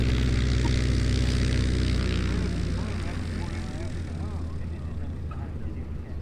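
Propeller airplane arriving at EAA AirVenture Oshkosh 2019, a steady loud engine drone with a harmonic hum that shifts partway through as the aircraft passes, under faint talk.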